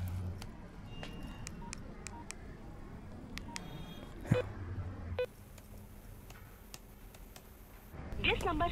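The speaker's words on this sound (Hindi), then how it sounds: "किरण को फोन करता हूँ।" A mobile phone dialing a call in a film scene, heard as a run of short key tones and beeps over a steady room background, with a brief ringing-type tone near the end.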